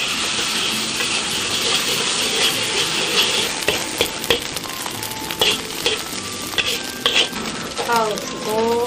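Eggs and shrimp frying and being stirred in hot lard in a wok, a steady loud sizzle broken by scraping strokes of a spatula, with occasional light clinks of cookware near the end.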